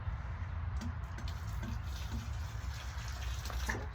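Water poured onto hard garden soil while replanting tomatoes, a steady soft splashing trickle over a low background rumble, close and continuous, no voices.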